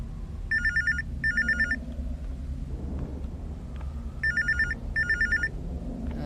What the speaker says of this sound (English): Let's go answer that phone.